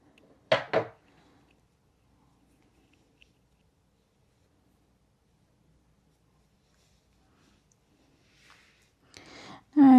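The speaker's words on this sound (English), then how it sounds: "Now we can cut the yarn." Scissors snip through crochet yarn in two quick, close, crisp cuts, followed by near silence, a faint rustle and a voice starting to speak at the end.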